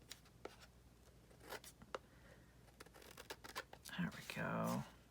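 Scissors snipping and trimming a bubble envelope flip cut from a Mac and cheese box, a few quick scattered cuts and paper rustles up close, followed by soft voiced speech near the end.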